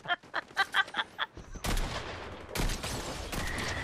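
Fortnite gunfire: a rapid run of sharp popping shots followed by a heavier, continuous burst of loud gunfire with booming impacts.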